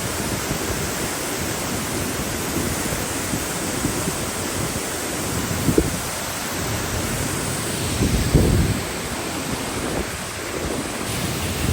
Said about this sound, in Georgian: აი ჩანჩქერთან ვარ